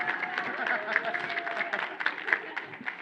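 A conference audience at a regional professional gathering breaks into scattered clapping, a dense patter of hands running throughout, mixed with a voice talking over it.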